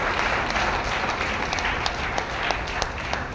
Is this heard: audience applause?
yes